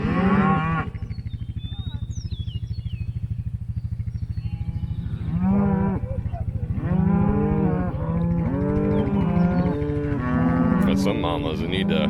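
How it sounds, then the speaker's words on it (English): Cattle on a farm herd lowing repeatedly, several long loud moos overlapping one another close by, over a constant low engine-like rumble throughout. "We've got very docile cows."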